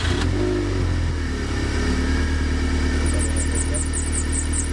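A Toyota MR2 engine fitted with a new aftermarket air filter runs at a steady, loud idle close by, with a faint high chirping sound creeping in toward the end.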